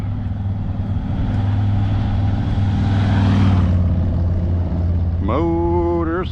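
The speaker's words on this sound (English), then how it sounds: "Comes a motorcycle." A motorcycle passes along a rural road on a spring day in Maine, a loud steady engine drone swelling as it goes by and fading off, with a brief pitched whine rising near the end.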